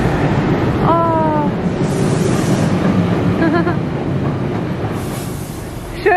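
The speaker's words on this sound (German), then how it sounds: "Schön, ne, der alte Zug?" An old train rolls past outdoors at close range, a loud steady rumble of wheels and cars filling the whole stretch, with a few brief high squeals over the noise.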